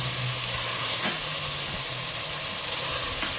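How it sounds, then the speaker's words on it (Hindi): Beef pieces fry with spices over high heat for beef masala boti, giving a dense, steady sizzle with light stirring scrapes close up and no talking. "चलो ये देखें मसालों के साथ इसको भून रहे हैं हम। तेज़ आंच से भूनने हैं आप बेशक।"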